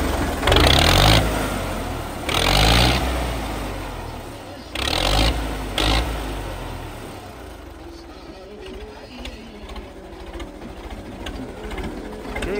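A Belarus tractor engine, an older machine with a twice-rebuilt engine, roars in loud revving bursts separated by short pauses, then settles into a steadier lower running rumble.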